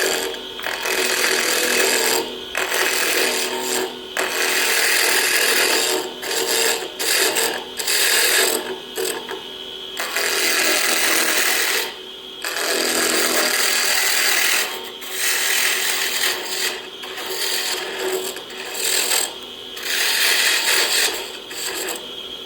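Rough-turning wood for a finial on a lathe with a cup chuck and tool rest: loud, rasping cuts come in repeated bursts separated by short pauses, close up and with no talking.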